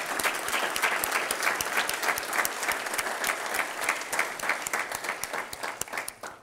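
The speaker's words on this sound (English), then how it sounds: "I'd like to give them all a round of applause." Audience applause at a Ventura city council candidate forum, honoring students helping run the event: dense, steady clapping from a sizable crowd that stays full for several seconds, then thins into scattered individual claps near the end.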